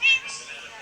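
A single short cat meow, fairly close and clear at the start, trailing off into faint background noise; a speaker may be voicing or imitating the meow.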